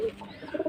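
A domestic pigeon coos nearby in a short, soft, low burble that swells into a few quick throaty pulses at the end, with no talking.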